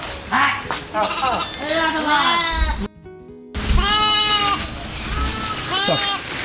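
Garol sheep bleat repeatedly on a large farm, several overlapping calls near and far, with a brief silent gap midway and no talk.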